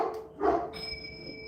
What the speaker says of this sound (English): Happy doggies! You're the happy dogs.